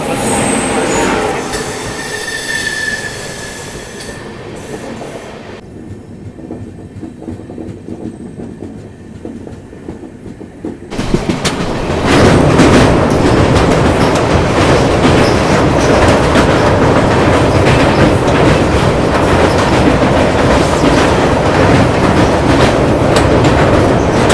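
Express train 20625 to Chennai Central passes close by on an Indian main line, starting quietly and then swelling into a loud, steady roar of rolling wheels and rhythmic clickety-clack that lasts to the end.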